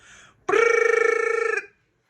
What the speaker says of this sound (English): Here comes a phone call.